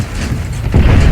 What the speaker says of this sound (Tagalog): Okay, ginagranada tayo.